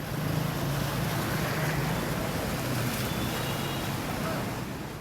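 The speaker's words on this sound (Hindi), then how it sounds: "इस गाड़ी को देखिए, पानी को चीरती हुई ये गाड़ी तेजी से निकलती है।" A car pushes fast through deep flood water that reaches about half its body, giving a steady, loud rushing and splashing wash of water with a low engine rumble beneath it, continuous throughout.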